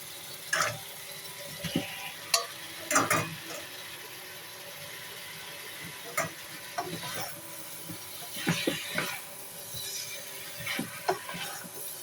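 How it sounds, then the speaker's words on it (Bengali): Potatoes and drumsticks are stir-fried in a pan, with a low sizzle and repeated irregular scraping and clattering of a spoon against the pan, near and moderately quiet. "এখন আমি একটু আলু দিয়ে দিব, আলুটা দিয়ে আর একটু কষাবো"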